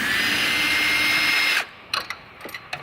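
A power drill whirs steadily while backing screws out of a parachute handle mechanism, then cuts off, followed by a few small clicks and rattles of parts.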